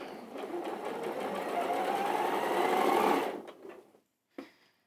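Domestic sewing machine stitching along a straight edge, a loud continuous whirring run that speeds up, then stops abruptly, followed by a brief click.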